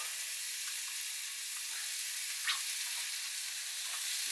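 Steak and onion sizzling in oil on a grill for an Australian steak sandwich, a constant bright crackling hiss with one brief sharper pop midway, no talk.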